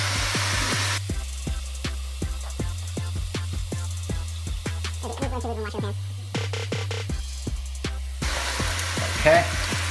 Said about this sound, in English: So now we're gonna go ahead and throw in our pork belly.